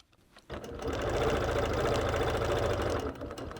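A sewing machine stitches a quilt along a quarter-inch ruler, starting up abruptly and running in a steady, even whirr for about two and a half seconds before easing off.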